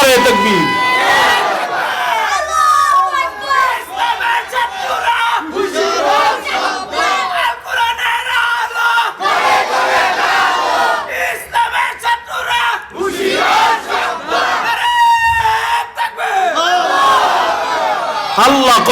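A large rally crowd roars the takbir chant in loud, repeated call-and-response waves, voices massed and echoing, with a leader's shouted calls between the bursts.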